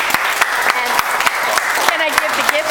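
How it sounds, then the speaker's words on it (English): Loud applause fills a retirement party, a dense, steady wash of clapping from a room of guests that holds for a few seconds, with a few sharper individual claps poking through near the microphone. "join me please with a big round of applause"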